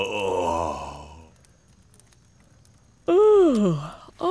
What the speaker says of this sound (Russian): I think your yawns are catching